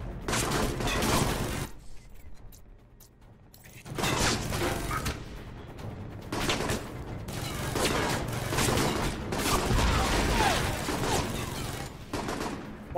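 Enemy gunfire in the video game Alpha Protocol, bursts of rapid shots and clattering effects that come and go, with a quieter gap partway through and no talking.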